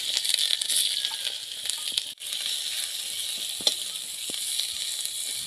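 Onions frying in a pan make a continuous close sizzle with scattered crackles and pops, and nobody speaks.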